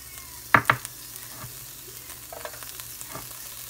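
Chopped onions dropped into a pan for ground beef quesadillas, two sharp clatters followed by a soft, steady sizzle close by, with no talking.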